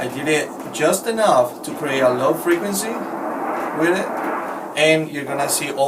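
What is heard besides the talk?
No everyday noises stand out.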